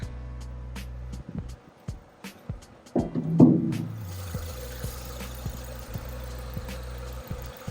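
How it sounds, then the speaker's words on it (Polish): Petrol 1.6 engine of a Renault Scenic, heard idling steadily in the open engine bay, a low, even hum that sits fairly quiet throughout, with a few knocks and handling noises near the car. "Przejdziemy sobie teraz do komory silnika. Posłuchamy jak pracuje silnik."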